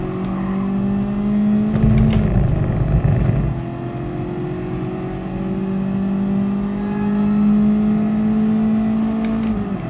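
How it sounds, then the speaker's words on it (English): A small high-revving car engine in Gran Turismo Sport winds up and holds a steady droning tone toward 9000 RPM, with a rougher burst of gear change or throttle lift near the start, loud and continuous with no voices. "it revs till 9000 RPM, this little engine."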